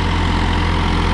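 A 2019 Massey Ferguson 245 DI 50 HP tractor fitted with a 7-foot rotavator runs its diesel engine at a steady idle, a loud, close, even low throb with no talk.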